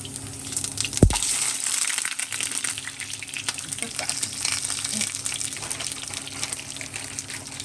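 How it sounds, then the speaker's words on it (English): Turkey sausages hitting a hot, smoking pan give a sharp sizzling burst at first, then settle into a steady crackling fry that continues at a moderate level. "take your turkey sausage. Put about probably 4 of them in the pan"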